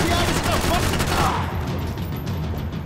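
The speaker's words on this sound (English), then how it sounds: "we'll grease these guys with the SMG" A dense, loud barrage of SMG gunfire fills the video game Max Payne 3, overlapping shots blurring into a continuous crackle that eases slightly toward the end.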